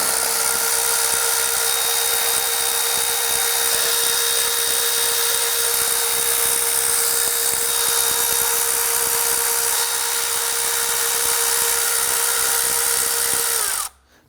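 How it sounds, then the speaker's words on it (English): A power tool spins out the 8mm bolts holding the upper intake to the lower intake on a 2010–2019 Ford Taurus 3.5L V6, a steady loud whir that runs for about fourteen seconds and then stops abruptly. "remove the 7 8mm bolts holding our intake to the lower intake"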